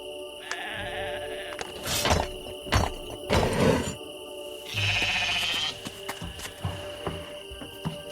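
Sheep bleating in the puzzle video game Lost Lands 9, several wavering bleats among soft thunks and chimes of game effects, loud and close, with no talking.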